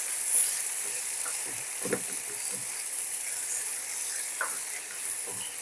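Ginger, green chilli and cumin paste frying in a pan: a constant hissing sizzle with a few quiet stirring scrapes, steady and close, without talk.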